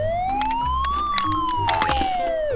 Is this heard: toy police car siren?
yes